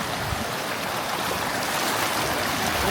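Shallow mountain river rushing over slippery stones during a jeep safari in Turkey, a steady broadband wash of flowing water that fills the whole clip without pause, close and fairly loud.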